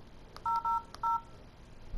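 Three clear DTMF touch-tone beeps from a telephone keypad as a number is dialed, evenly spaced over a quiet background hiss, with no talking.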